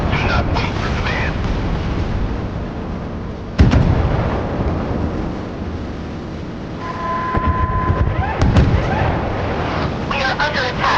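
Warship guns fire in the naval battle game Force of Warships: sharp booming blasts hit at intervals over a low rumble, with game voice lines and alert tones in between.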